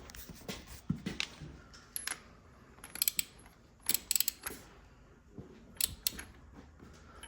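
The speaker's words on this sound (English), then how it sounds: "get this socket on. Tighten these things up." Socket ratchet tightening bolts on a motorcycle during a project build: bursts of quick metallic clicks and ratcheting come in several separate bouts, close up and fairly quiet, with short pauses between them and no talk.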